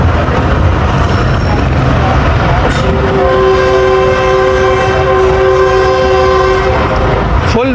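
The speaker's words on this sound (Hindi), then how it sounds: "ये विस्लिंग है जी सामने से प्लेटफार्म से सबको हटाने के लिए" Sandal Express train sounding a long, loud whistle at Jhang Sadar railway station, the sustained tone rising over heavy rumbling rail noise and crowd bustle on the platform.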